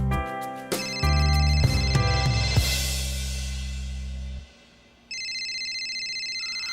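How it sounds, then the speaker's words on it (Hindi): An electronic mobile phone ringtone chimes in a repeating pattern at the end of a dramatized crime scene, after a run of tonal music stabs and a brief drop into near silence. "डॉक्टर साहब का फोन आ गया, अब तो जाना पड़ेगा यार।"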